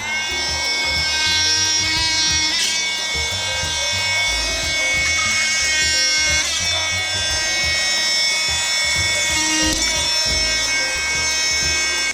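Bamboo being sawn to build a dog fence, with continuous back-and-forth cutting strokes and rough rasping, close and loud throughout, with no talking.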